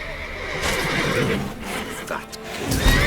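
Horses neigh and whinny loudly in a stable in The Witcher 3, close-up and agitated, with a hint of hooves shifting beneath.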